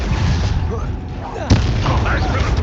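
A Confringo blasting spell from Hogwarts Legacy erupts as a sudden loud boom midway through, set against dense game combat noise with voices talking throughout.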